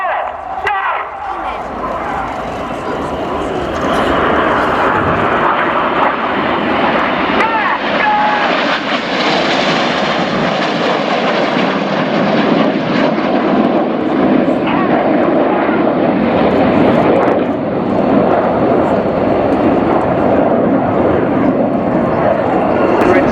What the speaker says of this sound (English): Red 7, they're working hard, flying his jet only 8 feet away from Red 6, but doing it while he's upside down